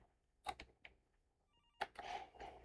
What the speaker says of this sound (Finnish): Puhelin soi.